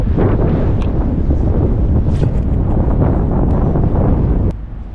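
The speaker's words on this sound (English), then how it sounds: "wind is blowing a little bit harder than I'd like" Strong, steady wind buffets the microphone beside the Raritan River in late winter, a loud continuous rumble that cuts off abruptly near the end.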